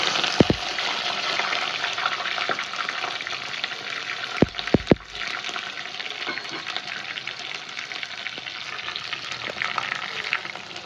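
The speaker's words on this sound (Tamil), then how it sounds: "போட்டுட்டு இது நல்லா வந்து கோல்டன் ப்ரௌனில் நல்லா கோல்டன் ப்ரௌன் ஆகிற வரைக்கும் வதக்கிக்கலாம்" Shallots, garlic, curry leaves and green chillies fry in hot oil with a loud, continuous sizzle and crackle, broken early on by a few sharp knocks of a stirring utensil against the pan.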